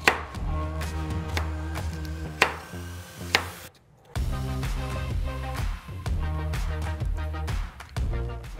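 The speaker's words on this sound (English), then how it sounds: "I'm gonna chop our half onion. Next, onto the carrot." A kitchen knife chops a half onion and then a carrot on a cutting board, with sharp, close, irregular knocks in quick bursts separated by brief pauses.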